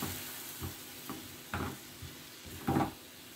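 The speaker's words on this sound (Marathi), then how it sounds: "आंब्याचा रस टाकायचा आपल्याला त्याच्यामध्ये आणि तो छानपैकी आपल्याला आटवून घ्यायचा आहे।" Mango pulp cooks down in a pan with ghee, giving a soft sizzle broken by a few scraping stirs spaced about half a second apart, close by and fairly quiet.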